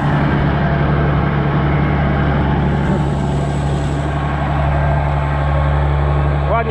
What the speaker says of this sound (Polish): Ładnie silnik werczy.